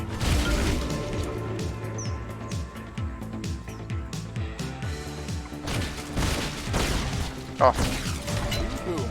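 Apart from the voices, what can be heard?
blunderbuss gunshots in video game God's Trigger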